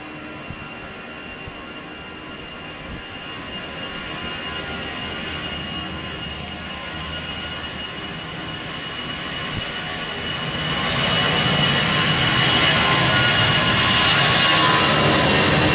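Aircraft taking off from runway 13 at Fortaleza airport, a steady engine roar that builds louder toward the end as it powers up and departs, heard alone without talk.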